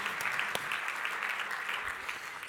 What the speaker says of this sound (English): give all these award winners a huge round of applause